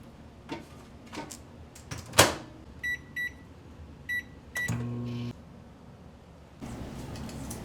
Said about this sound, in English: melting the vanilla white chocolate in the microwave for 2 minutes